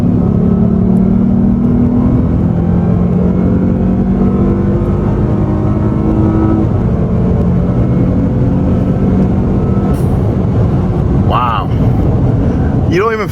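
A 2015 Lexus GS350 F-Sport accelerates hard in Sport S mode, its loud engine note climbing in rising sweeps through the gears with road roar underneath, and a brief voice near the end.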